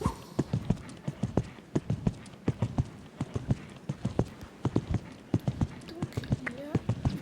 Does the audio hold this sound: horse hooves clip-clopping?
yes